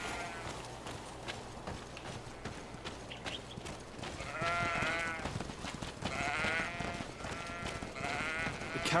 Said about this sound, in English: Are these going to be evil sheep that are going to attack me?